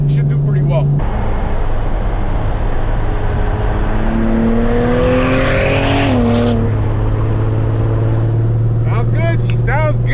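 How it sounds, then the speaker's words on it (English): Twin-turbo V6 Mustang or Cadillac ATS-V accelerating hard, a loud sustained engine drone with rising harmonics across most of the stretch, overlaid by talk from occupants. "Can you hear the turbos? Yeah, I could hear the turbos."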